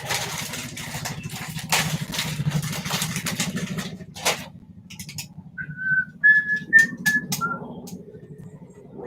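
A person whistles a short run of clear, high notes close to the microphone during a lockdown pub quiz call, after a stretch of low hum and scattered clicks and bumps, with no talk.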